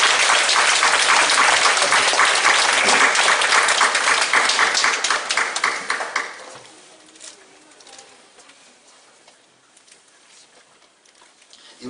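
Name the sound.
congregation applauding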